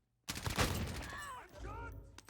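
Gunfire in the video game Call of Duty Warzone: a sudden loud burst of shots kicks off and rings out, quickly followed by a voice speaking over the fading noise.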